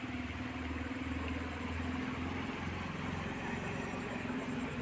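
A motorbike engine runs steadily nearby on a rural road, a low continuous drone that holds level for several seconds over a faint background hum.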